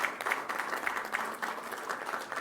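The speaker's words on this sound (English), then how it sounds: "You really should applaud yourself for the work that you have done." Audience applause at a hospital event in Guyana honouring doctors and support staff, a steady wash of clapping held at a moderate level for the whole stretch with no voices.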